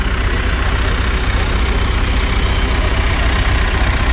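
A chore tractor's engine idles at a farm auction sale, a loud, close, steady low rumble that runs unbroken with no voices heard.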